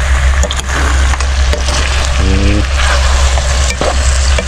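Chicken sautés in hot oil with shrimp paste (bagoong) in a pan, a loud, continuous sizzle and crackle with scattered pops, heard up close.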